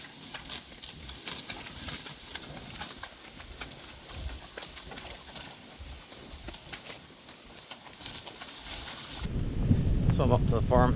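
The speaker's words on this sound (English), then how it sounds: "it's raining now, and there's a couple bands of heavier rain coming yet today" Steady rain falls over a farm pasture, a dense broadband hiss throughout with scattered louder drops and patters, turning to a closer, heavier rumble near the end.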